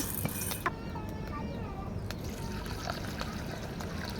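Water poured onto hot fried moong dal to wash it, a steady soft trickle and splash running throughout, fairly quiet and close.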